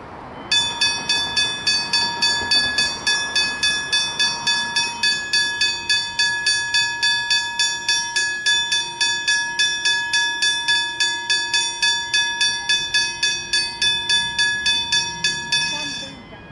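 At the Preston station level crossing in Melbourne, the warning bell rings in fast, evenly spaced metallic strikes for about fifteen seconds, loud and near, then stops, with faint background rumble underneath.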